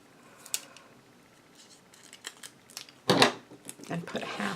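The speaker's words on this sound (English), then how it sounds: "I'm going to take one of these ribbon lines and I'm going to cut it in half." Scissors cut a length of ribbon in half, giving a few short, crisp snips close by with light rustling between them and one louder slice near the end.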